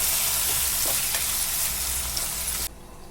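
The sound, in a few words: tomatoes being stirred and cooked in a pan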